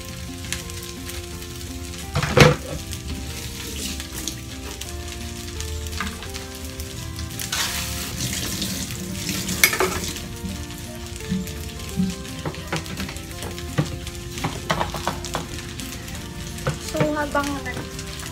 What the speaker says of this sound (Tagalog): Habang nag-aantay tayo ng fry, ma-fry siya ng bonggong-bongga